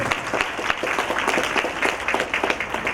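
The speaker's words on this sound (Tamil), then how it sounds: "அவர்களுக்கு வாழ்த்துக்கள் அதான் கைத்தட்டுங்கள்" Church congregation applauding during a Holy Thursday mass, with dense, steady clapping from many hands filling the hall at a fairly loud, even level with no voices standing out.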